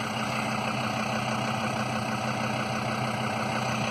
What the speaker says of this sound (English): Let's see how we go with the diesel engine